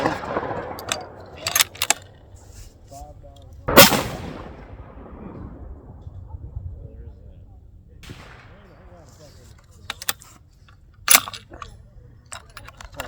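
Single sharp, loud gunshot at an outdoor rifle range during range-day testing, ringing out once with a brief decay amid scattered quieter bangs and faint background talk.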